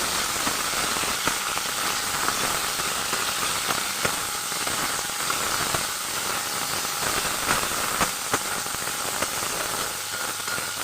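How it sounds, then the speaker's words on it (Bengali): Chicken pieces hit browned onions in a hot pan, giving a loud, steady sizzle and hiss with scattered small pops throughout, close up and with no talking. "এবার আমি কিন্তু মাংসের পিসটা দিয়ে দেবো পেঁয়াজটার মধ্যে, বা পুরো জিনিসটা একটু ভালো করে নেড়ে নেব।"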